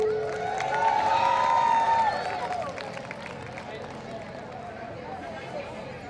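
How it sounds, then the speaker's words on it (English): A crowd at a family day event gives a round of applause for the Trinidad and Tobago Roxborough Cultural Group, clapping and cheering that swells then fades, with a voice over a microphone and crowd chatter. "let's give the Trinidad and Tobago Roxborough Cultural Group a Guyanese round of applause"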